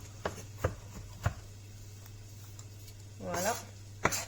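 Several sharp knife chops on a cutting board while preparing onion for a turkey tajine, spaced irregularly over a low steady hum, with a short burst of sizzling or clatter near the end.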